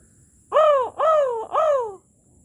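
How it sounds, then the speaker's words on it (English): Three loud, harsh crow caws in quick even succession, close by and alone against a quiet background. "Those crows were trying to get my attention."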